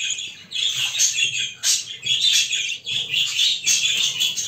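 Young pet bird chicks in a cage chirp continuously, a dense, close chorus of high thin cheeps and squeaks in overlapping waves with brief pauses between them.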